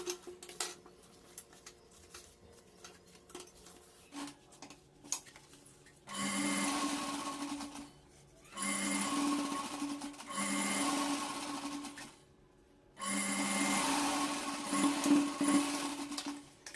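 An electric sewing machine stitches a blouse collar in three steady whirring bursts of about two to four seconds each, separated by short pauses, after a quieter stretch of cloth handling and faint clicks.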